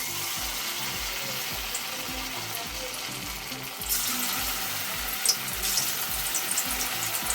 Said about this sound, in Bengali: তো এবার পনিরগুলো এক এক করে ছাড়বো।